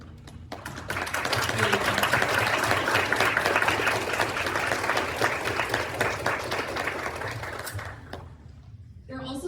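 An audience at the opening of a symposium gives a sustained round of applause for sponsors, dense clapping swelling and holding for several seconds before tapering off.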